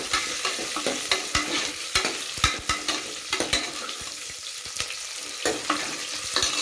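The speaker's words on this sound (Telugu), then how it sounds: "కొంచెం ఎర్రగడ్డ దోరలుగా వేగుతాను" Onion, dried red chili and curry leaves frying in a pan, a steady sizzling hiss punctuated by frequent sharp clacks and scrapes of a spoon being stirred, close and loud, no speech.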